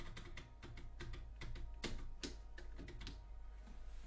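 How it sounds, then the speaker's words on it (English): Typing on a new computer keyboard, a steady run of close, crisp key clicks with irregular rhythm and occasional louder strikes over a low constant hum. "Got a new keyboard, I'm getting used to it."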